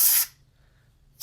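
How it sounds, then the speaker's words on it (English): Compressed air blasts hiss sharply while dust is sprayed out of a PS4 console, with one short burst, a brief quiet gap and the start of another burst, loud and close. "as I'm spraying the air and it's shooting out here"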